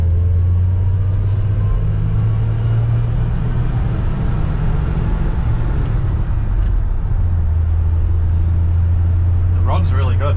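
A 1966 Chevy C10 Stepside pickup, fully restored, drives on the road with a steady low engine rumble and road noise throughout, loud and close, with a brief higher sound near the end.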